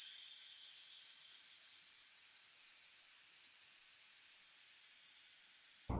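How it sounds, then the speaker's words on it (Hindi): Steady, loud hiss of steam escaping a pressure cooker as dal cooks on high flame, a continuous unbroken rush lasting several seconds before cutting off abruptly at the end. "और साथ ही में कुकर का ढक्कन लगा देंगे और 4 सीटी हाई फ्लेम पर आने देंगे।"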